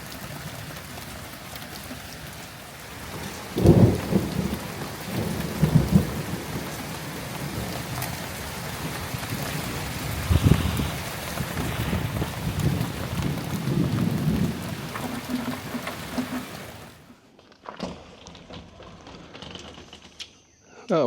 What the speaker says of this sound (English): we've got a thunderstorm with lightning